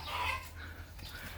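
Chickens clucking softly in a farm yard after a typhoon, a brief, faint burst of fowl calls over low background noise.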